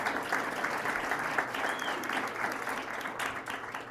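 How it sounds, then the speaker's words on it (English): Steady applause from the guests at a synagogue anniversary dinner, honouring the shul's members. The dense, even clapping fills the whole stretch at moderate loudness. "Everyone give a round of applause for you guys."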